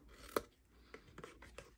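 Scissors snipping the corners of a paper brownie treat box, one sharp close cut followed by a few softer snips, quiet overall.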